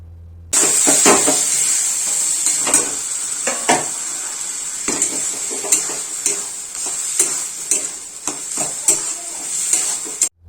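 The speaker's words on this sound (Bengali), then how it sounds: "এবার তরকারিটা তুলে রেখেছিলাম সেটা ওর মধ্যে দিয়ে ভালো করে মশলার সাথে মিশিয়ে নিতে হবে।" Ash gourd curry with coconut stirred into spices in a hot frying pan: a constant bright sizzle with repeated scraping stir strokes at an irregular rhythm, close and loud, no voices.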